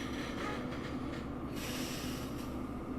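A train pulled by two locomotives rolls along in Derail Valley, a steady heavy rumble with a continuous hiss and a sudden burst of airy noise partway through.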